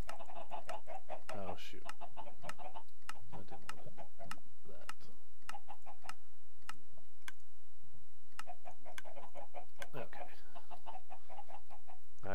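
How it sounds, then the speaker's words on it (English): Minecraft chickens cluck and bok repeatedly in a game, short clucks and clicky game sounds spaced throughout, with a person briefly speaking. "So we're just going to put a bunch of chickens in there."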